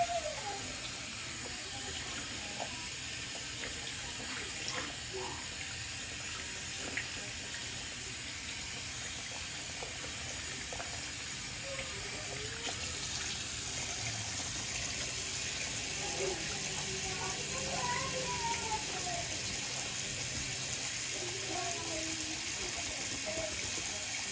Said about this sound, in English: All right, clean out my brush.